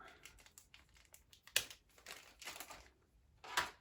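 Packaging for a Contour Next One being opened by hand: close, quiet crinkling and tearing of plastic and cardboard in irregular bursts, with a few sharper snaps, no talking.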